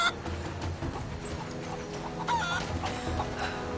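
A chicken in a video game gives short repeated clucks amid busy game sounds and a steady background hum.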